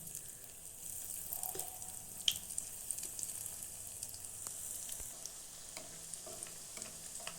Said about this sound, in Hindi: ये तलते टाइम मीडियम ही आंच पर तलना चाहिए ताकि ये अंदर से पके और ऊपर से क्रिस्पी बने।